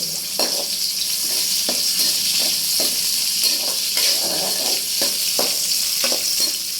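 Food frying in a pan with steady high sizzle, broken by repeated utensil scrapes and stirs at an irregular rhythm roughly every half second to second, close and loud throughout.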